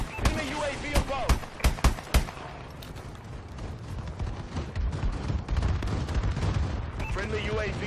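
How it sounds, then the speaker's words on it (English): Video game bombing run: a burst of loud, sharp gunshot and explosion cracks in the first two seconds, then a dense, rumbling wash of gunfire and booms continues under faint game voices. "Friendly bombing run clearing the way."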